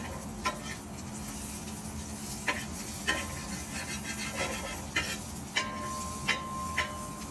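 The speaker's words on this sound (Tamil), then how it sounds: "நல்லா டீப் ஃப்ரை பண்ணுவோம்." Goat spleen deep fries in a pan with a constant soft sizzle, punctuated by several sharp clicks and taps of a utensil against the pan.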